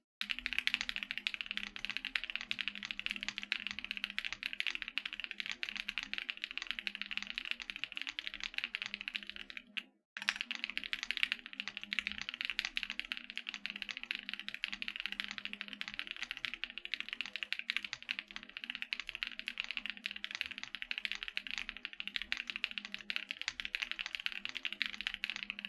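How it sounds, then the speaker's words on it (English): A loud, thocky computer keyboard is typed on steadily and densely for about 26 seconds, pausing briefly near the ten-second mark; no voices. "damn, my keyboard is so loud"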